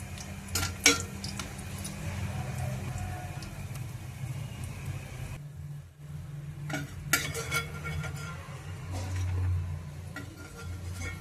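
Dried vadiyalu dumplings fry in oil in a pan with a steady close sizzle, broken by bright clinks and scrapes of a spatula against the metal, a short quiet gap near the middle, then stirring resumes.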